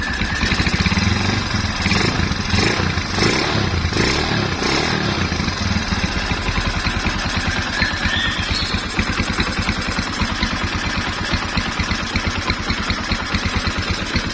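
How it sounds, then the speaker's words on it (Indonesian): A 225cc motorcycle engine idles close by with a steady, even, low putter that carries through the whole stretch, with some rougher revving noise at the start. "Suara mesinnya juga halus. Mesinnya juga aman, halus."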